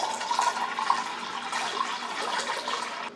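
Water pours steadily into a large batch of emulsified body butter, a continuous close splashing and gurgling stream with no voices over it.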